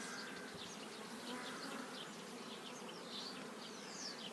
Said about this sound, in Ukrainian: І бджоли буквально все заливають.